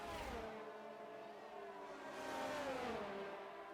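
A Formula 1 car's engine in the F1 22 racing game at Silverstone rises and falls in pitch as it revs through a gearshift. The whine is steady and continuous, heard alone at a moderate distance.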